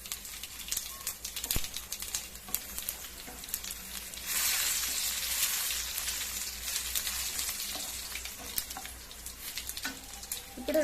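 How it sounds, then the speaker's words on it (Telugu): Garlic, mustard seeds, urad dal and cumin frying in oil for a pepper rasam tempering, a quiet continuous sizzle that swells partway through, with faint scattered clicks and pops in the background. "వెల్లుల్లి వేగిన తర్వాత కొద్దిగా ఆవాలు, కొద్దిగా మినప్పప్పు, కొద్దిగా జీలకర్ర అండి."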